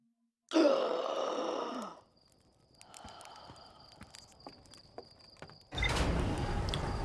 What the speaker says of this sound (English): I think this gasp sounds very feminine